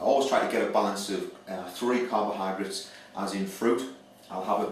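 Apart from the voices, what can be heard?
No everyday noise stands out behind the speech.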